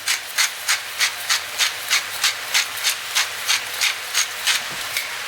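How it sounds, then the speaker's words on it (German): A pepper mill being turned over a pan while cooking veal with bell peppers, giving about a dozen evenly spaced, close, gritty rasping grinds over soft background hiss. "Pfeffer von der Mühle bitte."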